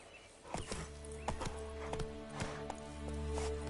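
Rhythmic hoof clip-clop of a horse in the open-world game The Witcher 3: Wild Hunt on PS5, steady trotting beats with a soft whinny, set against a low humming game ambience.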